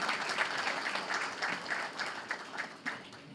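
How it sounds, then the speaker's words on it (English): An audience at a symposium gives a round of applause for BMC, producing steady, dense clapping with a few sharper individual claps rising above the mass throughout. "So BMC needs more round of claps for the BMC."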